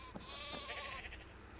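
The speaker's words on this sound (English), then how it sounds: "There's a happy sheep." Sheep bleating in the desert survival game ARK: Scorched Earth, a wavering bleat held for about a second over constant background game noise.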